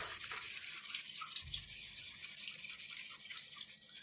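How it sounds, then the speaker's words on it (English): A circuit board rinsed under a running tap to wash off oiliness, with a steady hiss of flowing water spattering close by and continuing without pause, and no voices. "Under the running water helps to remove the oiliness."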